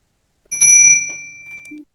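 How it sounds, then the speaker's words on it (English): A bright bell rings once close and loud, its clear high tone ringing out and fading over about a second, followed by a brief low blip. "There's a bell."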